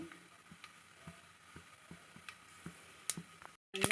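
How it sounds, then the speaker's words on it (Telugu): Mustard seeds, fenugreek and cumin sizzle and pop in hot oil for a tempering, a soft steady crackle with scattered sharp ticks and a louder burst near the end, no talking. "ఇప్పుడు ఆవాలు, మెంతులు, జీలకర్ర అంతా వేసేయాలండి."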